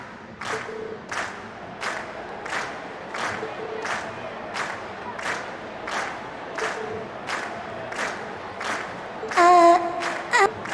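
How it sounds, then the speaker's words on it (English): Crowd in the game Trails of Cold Steel I cheering at the end of Class 7's stage performance: steady rhythmic pulses of massed cheering and clapping, moderately loud and unbroken, with a brief bright electronic tone near the end. "we've heard your cheers loud and clear"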